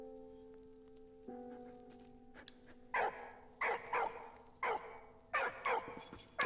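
A dog in the video game Valiant Hearts barks in a series of about seven sharp, evenly spaced woofs, loud and close, following a stretch of low sustained game music tones.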